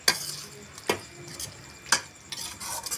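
A utensil scrapes and stirs through thick ridge gourd gravy in a pan, three or four distinct strokes at an uneven pace, with a soft sizzle underneath.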